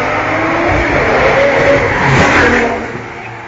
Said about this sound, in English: I have a Lamborghini.